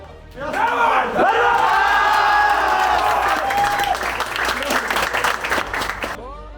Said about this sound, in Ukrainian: А коли до команди зайшов головний тренер, усі зустріли Віталія Пономарьова оплесками